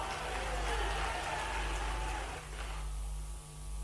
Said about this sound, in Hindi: ताली वाली बजा के बताना